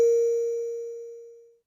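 A single synthesized bell note in music production strikes cleanly and decays smoothly over about a second and a half, clear and alone with a pure sustained tone.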